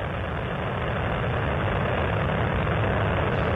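Space Shuttle Columbia's three liquid fuel main engines roaring during the STS-107 launch, a steady, dense, loud rumble that holds unbroken throughout with no voices.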